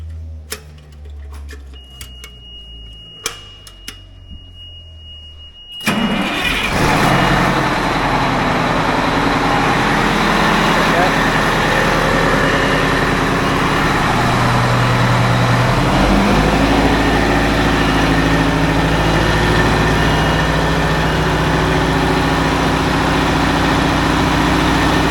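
An inoperative Oshkosh M1070 HET 8x8 truck, left for scrap, cranks and catches after a few seconds of faint clicking, then settles into a loud, steady diesel idle that rumbles on with no voices.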